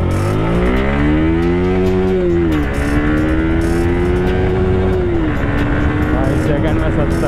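A Yamaha R15 V4 sports motorcycle accelerates hard in first gear, its engine note rising loud and close and then dropping at the gear changes, while someone talks over the ride.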